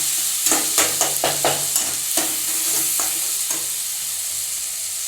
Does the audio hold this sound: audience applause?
no